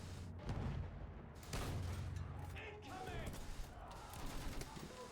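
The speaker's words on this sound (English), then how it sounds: "Oh, that's field cannon." Field cannon fire in the video game Battlefield 1, several heavy booms spaced across a few seconds amid battlefield din, with a voice talking over parts of it.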